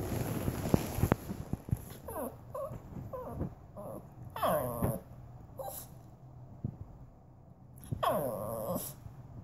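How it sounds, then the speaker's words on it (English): A dog whimpers, whines and growls in short bursts, fairly close, with a few sharp yips in between and brief quiet gaps between the vocalizations. "Are you a talking dog?"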